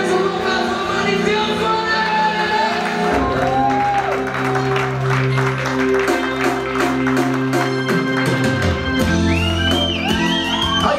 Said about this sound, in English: I Want to Hear Your Humble Applause